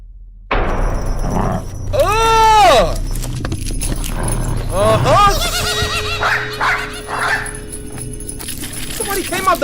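A dog barks and yips repeatedly in an animated horror short, loud close barks in uneven bursts, with people's voices overlapping.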